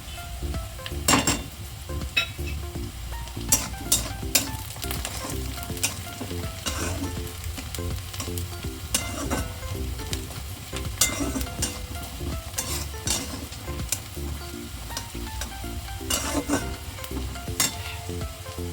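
Onion frying in a pan for jackfruit curry, a steady close sizzle with intermittent clinks and scrapes of a utensil against the pan, no voices.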